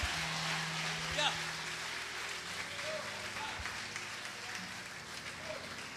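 A congregation applauding during an evangelical church service, a moderate wash of clapping with crowd murmur and some talk mixed underneath, fairly distant and steady.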